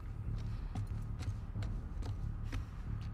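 Faint, distant hoofbeats from a horse in the video game The Last of Us Part II, a slow regular clip-clop of soft knocks over a low rumbling background.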